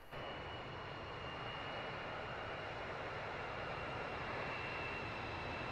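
Steady, loud airplane engine drone in the X-Plane flight simulator game, a continuous broadband roar that holds even throughout with no talking.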